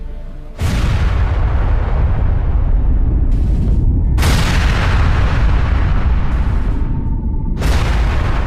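A nuclear bomb detonation producing a mushroom cloud with the force of 20,000 tons of TNT: a sudden massive blast swelling into a continuous heavy roar, with fresh surges breaking in again and again. No voices.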